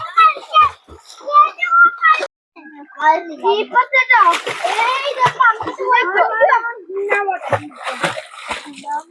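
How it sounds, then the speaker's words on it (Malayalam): Excited children shout and chatter close by while playing in canal water, bursts of splashing breaking through the voices. "വെള്ളം കണ്ട പിന്നെ അവർക്ക് കയറുന്നില്ല കേട്ടോ വെള്ളത്തിൽ ഭയങ്കര കളിയാണ്"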